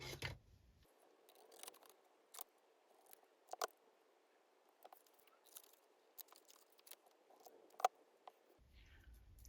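Scissors snip through paper card pieces for a grungy junk-journal Valentine card, giving a run of short, close, crisp cuts at an uneven pace over a quiet background.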